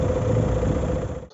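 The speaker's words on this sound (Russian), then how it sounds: "Слышен только рокот двигателя." A Renault 1.5 dCi K9K diesel engine idles with a steady, close low rumble, warmed up after about five minutes, humming evenly before cutting off abruptly at the end.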